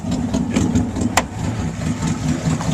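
A 1962 Studebaker Hawk GT engine idles roughly just after a cold start, a loud, uneven low throb heard up close with exhaust coming from only one side, and a single brief sharp tick partway through.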